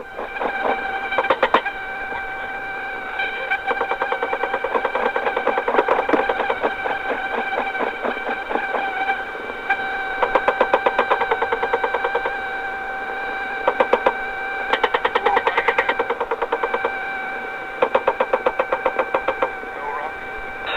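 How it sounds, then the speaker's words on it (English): A UH-1 Huey helicopter's door machine gun fires in repeated rapid bursts over the constant drone of the rotor and engine, with short pauses between volleys. "And the machine gun's coming in now."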